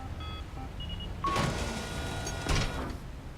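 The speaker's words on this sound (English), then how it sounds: "Closing hatch." A hatch in the video game Mass Effect 3 slides shut with a mechanical whir, a rising hum that swells after a short electronic tone and surges again before settling, loud and close with no talking.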